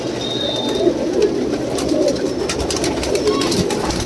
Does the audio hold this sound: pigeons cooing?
yes